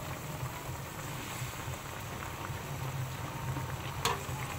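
A pot of sautéed tilapia broth with water spinach at a steady boil, a continuous close bubbling and low rumbling simmer with a faint clink near the end.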